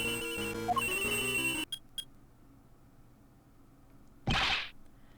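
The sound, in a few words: cell phone ringing in video game Ace Attorney Investigations 2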